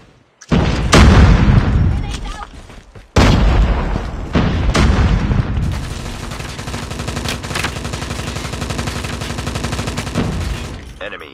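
In a Call of Duty match, a frag grenade detonates with a loud, close boom, then a second blast follows, and a rattle of gunfire and game noise carries on after it.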